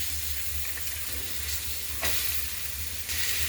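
Green beans tumble into a pan of red chili and ambari masala spices frying in oil, a steady close sizzle with brief louder hisses as the beans hit, no talking.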